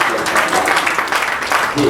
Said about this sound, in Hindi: एक बार ताली बजाकर सुनील भाषा